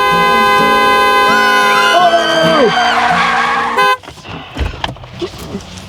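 A car horn blares in a sustained, wavering chord, rising and sliding as the car passes close by, then cuts off abruptly and leaves scattered voices and road noise.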